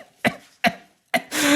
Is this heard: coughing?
yes